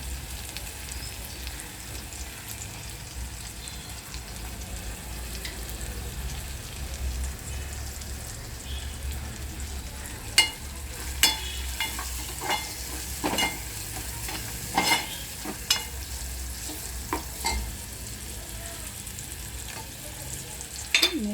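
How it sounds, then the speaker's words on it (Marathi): Mashed tomatoes fry in a pan for dal tadka with a constant hissing sizzle, and a spoon gives repeated sharp clacks and scrapes as it mashes and stirs them, most often in the second half. Nobody speaks. "टोमॅटो पूर्ण मॅश करायचे पूर्ण गरम झालं पाहिजे"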